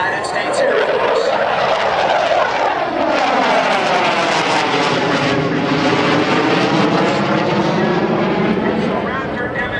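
US Air Force heritage flight aircraft passing over a crowd at the 2012 Cleveland National Air Show, a loud sustained engine roar with a sweeping pitch shift as the planes fly by overhead.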